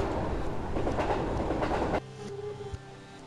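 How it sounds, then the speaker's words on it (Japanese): A train arrives at a station in the video game Unreal Life, loud rolling rail noise for two seconds before cutting abruptly to a quieter ambient scene with a single low thump. "おほー、電車かっこいいですね"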